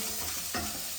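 Green chillies go into onions frying in a pan, and a steady hiss of sizzling oil runs throughout with a brief stir or drop partway through, close and fairly soft.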